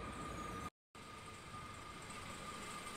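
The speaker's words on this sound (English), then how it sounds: "There are also a lot of freight trains like this one." A freight train rolls past a station on the Moselle–Rhine line between Trier and Cologne, a steady broad rumble with a faint tonal whine, heard at a distance, broken by one short cut in the middle.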